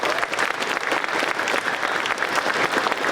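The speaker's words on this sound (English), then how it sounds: "how about a round of applause for everyone who had a particular hand in putting together this great ceremony for the Henke family today." An audience at a military frocking ceremony applauds the organizers, a dense, steady round of clapping from many hands, close and sustained with no talk over it.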